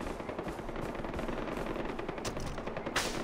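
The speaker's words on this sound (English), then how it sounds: "There's so much gunfire." Sustained machine-gun fire from several weapons in a Far Cry 4 battle at Banapur, a dense, continuous rattle of rapid bursts that stays loud and close throughout with no pause.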